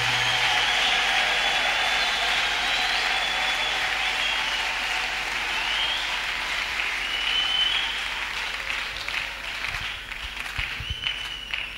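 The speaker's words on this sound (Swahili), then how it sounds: "Piga makofi wanapokuja." Sustained, dense applause from a large gathering greets newly announced leaders as they come forward. It holds steady and fairly loud, then thins out toward the end.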